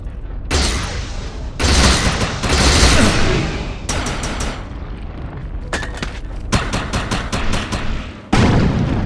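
Heavy bursts of weapon fire while shooting a projection with overcharge active in the Defiance video game, loud booming volleys, then rapid separate shots in quick succession, ending with one more burst.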